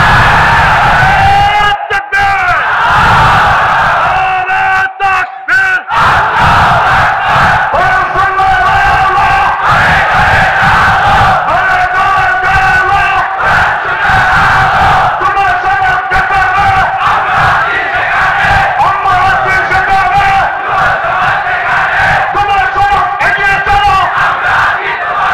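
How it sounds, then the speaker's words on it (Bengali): A large crowd at a Bangla religious sermon roars the takbir together in loud, sustained unison, a dense wall of massed chanting and yelling that carries on for the whole stretch without pause. "জিব্বা মহাব্বতে জিব্বা খুলে কণ্ঠ আওয়াজ করে একটা তাকবীর দাও"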